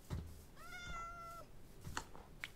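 A Minecraft cat lets out a clear, drawn-out meow between soft clicks and taps, quiet and close, with a couple of short chirpy sounds after it.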